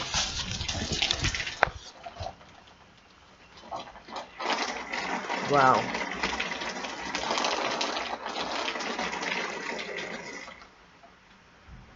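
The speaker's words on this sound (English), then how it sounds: "it's that windy that the rain that's coming down is being pushed across the water, across the floor." A heavy, wind-driven rainstorm lashes down, a steady loud rushing wash of water rising and falling, with a brief exclaimed voice near the start.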